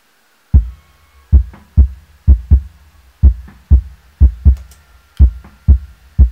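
Punchy, boomy kick drum hits with a low-end EQ boost play alone in a loose pattern, each thump deep and heavy with a quick decay, about a dozen strikes.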